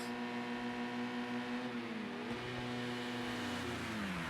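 A touring race car's engine in a racing simulator on the Bannochbrae track drones steadily with a strong harmonic whine, its pitch dipping and climbing as it shifts and accelerates, moderately loud with no talk.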